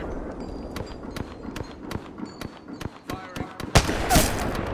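A Kraber sniper rifle fires in a video game, with one loud, sharp report near the end that follows a run of lighter clicks and footstep-like taps, and a voice talks faintly underneath.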